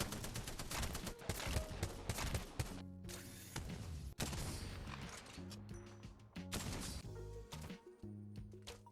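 Rapid, loud weapon gunfire in the video game Apex Legends, with dense bursts of shots over a continuous game soundtrack, nearly nonstop throughout.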